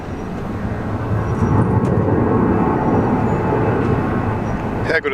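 A departing jet climbs over Sydney Airport, a broad, loud, steady roar that swells slightly and holds for several seconds.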